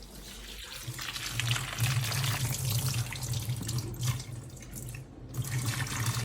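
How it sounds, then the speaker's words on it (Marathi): Water runs from a tap over cauliflower pieces being rinsed in a sink, with a steady splashing flow and light handling sounds. "हे गोबीचे तुकडे केलेले आपण याला स्वच्छ धुवून घेऊ"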